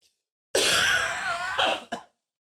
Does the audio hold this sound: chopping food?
no